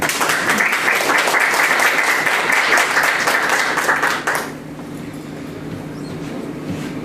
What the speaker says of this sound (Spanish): con quien nos presentamos con fuerte aplauso